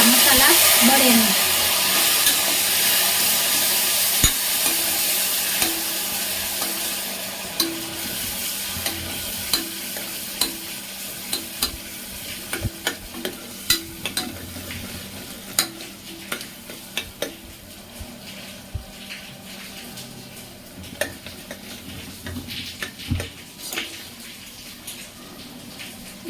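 Prepared masala tempering sizzling and frying in oil in a pan, with a splash of water added to keep the spices from burning; a steady close hiss with stirring clicks and scrapes through the clip, fading slightly later on.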